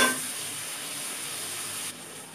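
Fish head sizzling as it goes into a pan of cooked-down spice paste, a loud burst of hiss at first settling into steady frying crackle, with no one talking.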